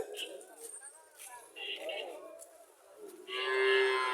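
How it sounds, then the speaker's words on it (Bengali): Cattle at a bull-calf market in Chauara Bazar, Cumilla, give a few moos amid market noise, mixed with nearby talk. "ছোটো ছোটো সার বাছুর দেখা যাইতেছে"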